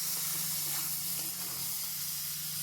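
Pineapple pieces fry in oil with chili in a pan, producing a steady, close hissing sizzle that holds at an even level throughout.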